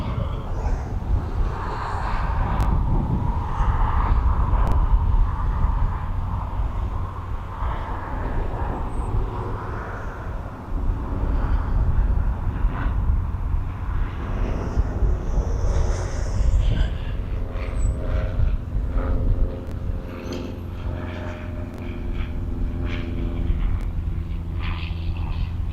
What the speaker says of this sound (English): East Mids Flying School in the Cessna 152 there